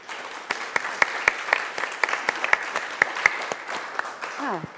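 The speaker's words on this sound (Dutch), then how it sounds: "En een warm applaus voor onze panelisten." A small audience at a panel discussion on inclusion and diversity in education claps for the panelists, sparse, distinct claps in a loose rhythm at moderate volume, ending with a brief voice.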